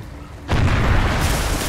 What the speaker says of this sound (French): Merde, j'ai lancé une grenade.